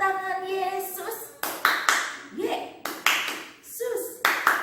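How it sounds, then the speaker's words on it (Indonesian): Children's Sunday school clapping for Jesus: sharp bursts of rhythmic hand claps come close and loud, mixed with a sung or spoken voice. "Tepuk tangan Yesus."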